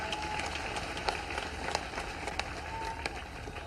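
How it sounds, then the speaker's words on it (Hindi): Crowd at a Narmada Jayanti festival address by the chief minister claps steadily, a dense wash of applause with sharper individual claps standing out, moderately loud and continuous. "जरा ऐसे ताली बजना चाहिए जितना बड़ा आंकड़ा है।"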